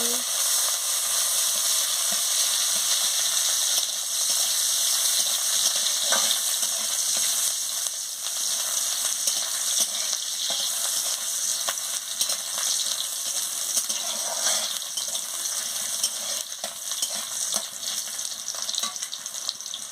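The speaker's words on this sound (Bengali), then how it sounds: "আমি পেঁয়াজ কুচিটা দিয়ে দিচ্ছি। দিয়ে ভালো করে ভেজে নিচ্ছি" Chopped onions fry in hot oil for a banana-flower curry, a continuous close sizzle with occasional stirring scrapes, steady from start to finish.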